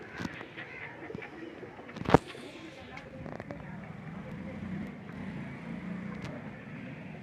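Pigeons, including red-eyed birds, coo softly in a loft while someone talks over them, with one sharp loud knock partway through and faint background noise.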